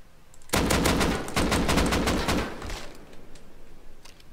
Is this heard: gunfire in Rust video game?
yes